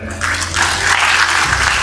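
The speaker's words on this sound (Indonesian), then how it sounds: "tepuk tangan ya" An audience applauding during a speech by an Indonesian agriculture minister, a short burst of clapping heard over a low steady hum.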